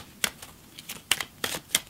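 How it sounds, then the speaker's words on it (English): Playing cards shuffled up close, a handful of quick crisp riffling bursts spaced irregularly across a quiet background, with no talking. "Now what you want to do is have them shuffle it."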